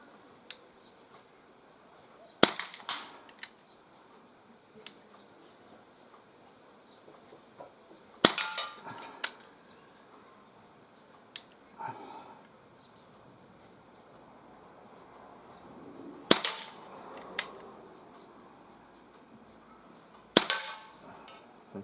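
A Walther CP88 air pistol fires at cans outdoors, with several sharp, isolated cracks spaced seconds apart, some followed by a faint metallic hit, and brief quiet voices between shots.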